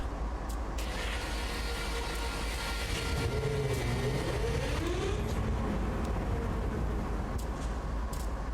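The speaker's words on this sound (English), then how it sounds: "let me start up this engine, because that's not the engine I wanted to stop" Diesel locomotive engine starting up in Train Sim World 2 on Sand Patch Grade, a continuous low rumble with rising and falling engine tones as it turns over and builds, plus a few sharp hisses and clicks.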